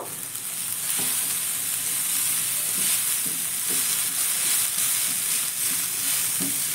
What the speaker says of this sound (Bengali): সরিয়ে দেওয়ার পরে আবারও ভালো করে একটু নাড়াচাড়া করে নেব।